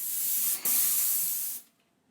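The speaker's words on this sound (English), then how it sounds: "Then I just give them a quick spray with flat before I do the whole Cornice in one." A Wagner Project Pro 119 airless paint sprayer blasts flat paint onto a cornice in a loud, steady hiss, briefly cut once, then stopping abruptly into quiet.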